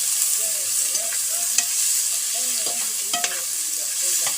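Two onions in two spoonfuls of ghee crackle and sizzle in a pan, with a steady hiss and occasional spoon scrapes and stirring clicks, close and alone without talk.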